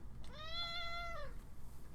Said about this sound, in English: I know what that meow means.